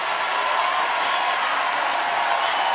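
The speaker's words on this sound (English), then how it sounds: "Student section is loud and into it." Loud student section crowd at a Gonzaga women's basketball game against Utah, a steady roar of cheering voices filling the arena without a break.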